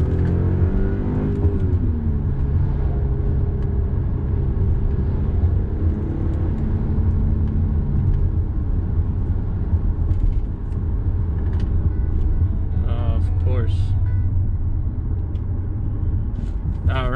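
A car engine pulls hard in second gear at close range, a loud continuous rumbling drone with a rising then falling engine tone, tire and road noise underneath, and a brief voice late on.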